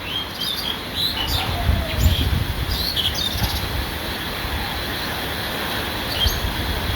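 Small birds chirping and twittering outdoors as a rainstorm sets in, scattered high tweets over a steady background rush of wind and rain, fairly close and moderately loud.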